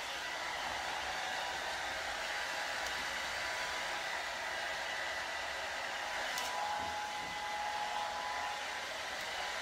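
Hair dryer running on a medium setting, a steady even whoosh of blown air that carries on through the whole stretch, fairly faint, with no talking over it.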